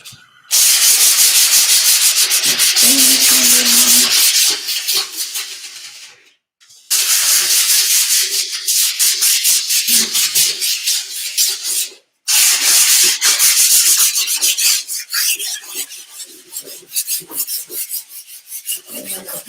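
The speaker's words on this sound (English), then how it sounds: "All right, so I'm gonna sand this down." Hand sanding of a surface in an art studio: loud, close, rasping strokes in long continuous runs broken by two brief pauses, with rhythmic scraping toward the end.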